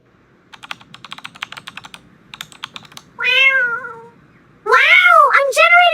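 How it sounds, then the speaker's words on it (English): Quick bursts of keyboard typing from an AI-generated Veo 3 clip, crisp and close, rattling in two runs before a cat's drawn-out meows take over. "You notice the keyboard typing sound"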